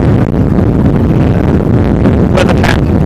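Strong, steady wind roars across an outdoor women's college soccer match in the Tampa Bay area, buffeting the microphone continuously with broadband rumble and a few brief hissy gusts near the end.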